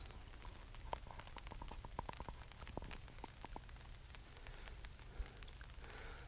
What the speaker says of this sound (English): Slight drizzles came about just in the past 10 minutes, which was predicted.